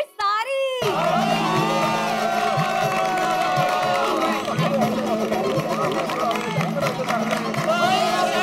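A brief swell opens into sustained studio audience noise on a TV comedy show, cheering and whoops with clapping and chatter mixed through, loud and continuous throughout.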